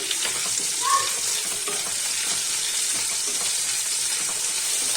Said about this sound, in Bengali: আমি এখানে গরম মশলা গোটা ফোড়ন দিয়ে দিলাম, এলাচ লবঙ্গ দারচিনি